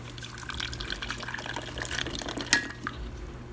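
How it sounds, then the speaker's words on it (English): Water splashes and trickles steadily as it is poured into a cooking pot for Mexican rice, close by in a kitchen, ending in a brief louder splash. "I'm gonna bring a little bit more of water"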